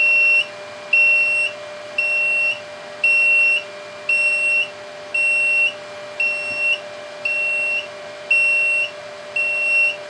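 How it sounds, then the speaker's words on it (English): A super capacitor bank's low-voltage warning: a high electronic beep repeats steadily about once a second, each tone sustained briefly, loud and clear over a constant faint hum. "it's giving us a beep. That's the low voltage warning."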